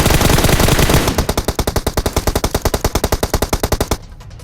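Loud automatic gunfire in the PUBG Mobile battle royale game, a continuous dense burst that settles into a rapid even rhythm of shots before cutting off abruptly near the end.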